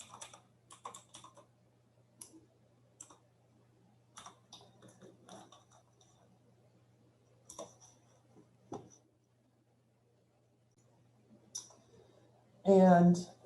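Computer mouse clicks and keyboard taps at a desk during GIS mapping software work, sparse light clicks scattered through the clip with a steady low hum, ending in a brief louder burst.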